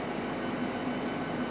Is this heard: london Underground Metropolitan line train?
yes